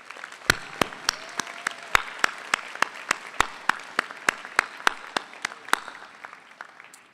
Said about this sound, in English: Please, with a round of applause, show your deep appreciation for their unwavering support.